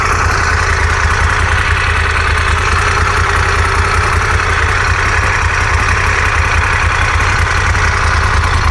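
A Moto Guzzi Eldorado 1400 motorcycle engine idles steadily and loudly up close, a constant low throb with a slight mechanical clatter running unchanged the whole time, no voices.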